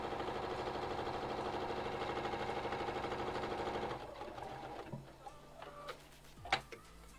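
Sewing machine stitching a travel bag, a quiet rapid even whir for about four seconds, then stopping, followed by soft clicks and handling noises.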